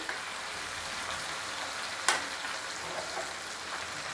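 Chicken pieces fry in a pan over a high flame, giving a steady, even sizzle throughout with one sharp click partway through and no talking.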